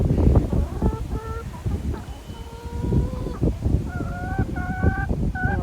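Chickens, rescue hens in a winter urban homestead yard, call repeatedly over a noisy background, with drawn-out honking, clucking tones rising and falling; several calls overlap at moderate distance.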